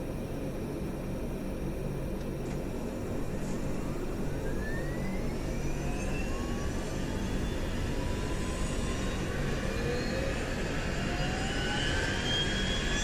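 Simulated Dash 8 Q400 turboprop engine spooling up in X-Plane 11, a steady loud roar with rising whining tones sweeping upward throughout, continuous without speech.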